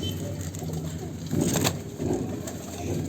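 Birds cooing nearby, soft repeated calls rising and falling over a low background hum, with a brief louder stretch in the middle.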